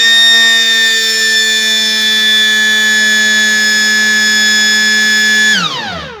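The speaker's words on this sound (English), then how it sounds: "The alarm will give you signal that they have brought light" A loud, steady alarm buzzer on an automatic generator changeover circuit drones for several seconds, signalling mains power has returned, then its pitch slides downward as it winds off.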